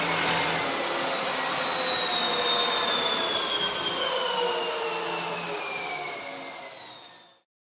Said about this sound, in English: here's my Sears Craftsman Professional Series 8-inch 1 horsepower bench grinder